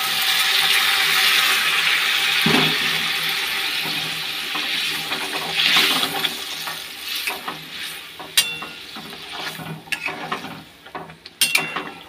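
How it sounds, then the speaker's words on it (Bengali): Hot water is poured into a plate in a kitchen as a steady rushing, hissing pour that fades over several seconds, followed by scattered clinks and knocks. "যে গরম জল দিয়ে দিচ্ছি, গরম জল"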